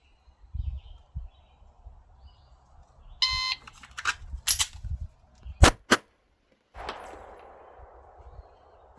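Two handgun shots fired right after a draw at an indoor or outdoor range, carried with an empty chamber or one in the chamber, each a sharp crack with a quick decay, set among scattered clicks and handling noise.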